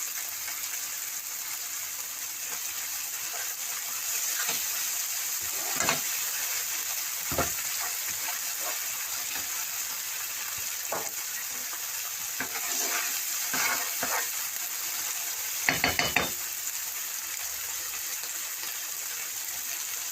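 Onions and tomatoes frying in a pan for chicken tikka masala give a steady, close sizzle, broken by scattered utensil clicks and scrapes, with a short cluster of louder stirring knocks near the end.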